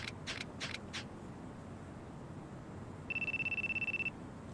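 A phone in the video game Yakuza 2 rings with a bright, rapidly pulsing electronic trill for about a second, faint and alone, after a few quick clicks at the start.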